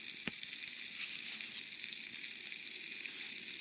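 Rabbit frying and sizzling over a campfire at a bushcraft bivouac: a steady, dense crackling sizzle close by, with one sharp pop near the start and no talk.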